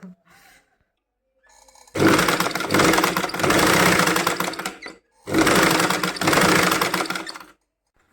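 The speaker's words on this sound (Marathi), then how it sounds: "तर हा ब्लाउज मी पटकन शिवते आणि मग तुम्हाला दाखवते" A sewing machine stitches a blouse in two loud, steady runs of rapid mechanical whirring, each several seconds long with a brief pause between, and no talk.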